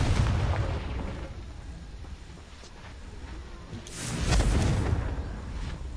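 Confringo blasting spell cast in the Hogwarts Legacy video game, a loud rumbling explosion that swells near the start, dies to a low roar, then bursts again with a second heavy boom and crackle.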